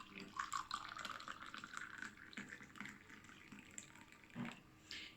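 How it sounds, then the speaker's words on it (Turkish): Brewed herbal tea is poured from a pot, a quiet trickling liquid stream with light splashes and drips, faint and close, with no talking. "Evet çayımız demlendi. Şimdi şöyle dökelim."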